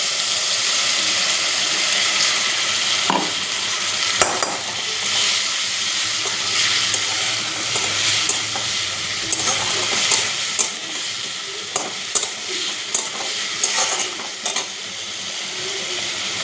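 Potatoes browned in a pan sizzle steadily as a spice paste goes in, with a continuous hiss of frying close by and scraping stirs plus occasional sharp clacks of the spoon against the pan.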